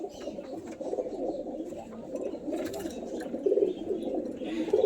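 Pigeons coo softly in a home loft, low murmuring calls overlapping continuously amid faint background rustling and a few brief scuffs.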